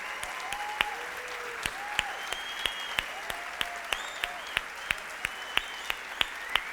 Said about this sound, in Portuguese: Nós queremos aplaudir vocês aqui nesta manhã.